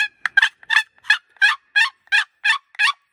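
Loud turkey locator call imitating a gobble: a rapid series of about ten sharp, evenly spaced gobbling bursts, close and clear, with no talk.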